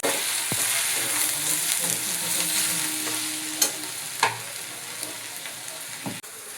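Tomatoes tossed into frying onion with ginger and garlic for a matar paneer curry hiss in a continuous sizzle, broken by a few sharp knocks of a spoon against the pan.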